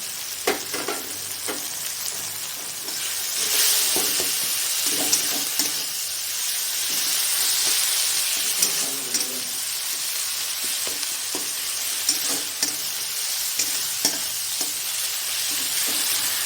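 Ginger paste frying with softened tomatoes in a pan, giving a steady close sizzle broken by repeated scraping and clinking strokes of a spatula stirring throughout.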